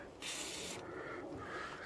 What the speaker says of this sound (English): I'm going to give another spray on the threads